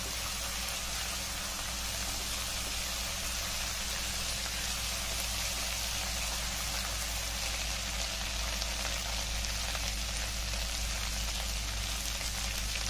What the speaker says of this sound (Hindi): दो मिनट तक अच्छे से भूनेंगे अदरक लहसुन को।